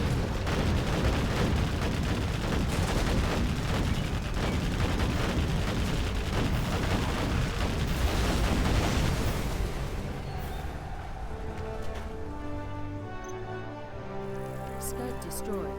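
In a Command & Conquer Generals battle, a Scud launcher is destroyed amid dense, continuous gunfire and booming explosions that thin out near the end into sparser tones and game effects.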